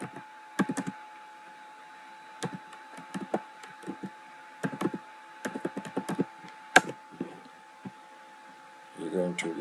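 Someone types on a computer keyboard, tapping keys in short irregular bursts and single clicks close by over a faint steady hum, with a few pauses between words.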